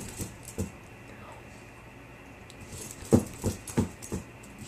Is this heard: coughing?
no